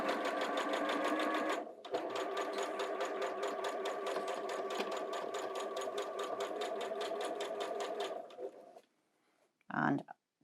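A sewing machine stitching a quilt runs in a steady rapid whir for several seconds, pauses briefly, resumes, then stops, followed by a short clunk; no voices intrude.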